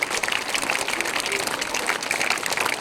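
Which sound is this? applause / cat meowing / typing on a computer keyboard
applause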